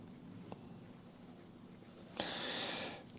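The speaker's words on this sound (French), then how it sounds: "on va essayer de faire un petit plan dans mon petit carnet de notes" A pen writes quickly in a small notebook, sketching a map: a soft scratch near the start, then a close, steady burst of scribbling strokes about a second long near the end, alone in a quiet room.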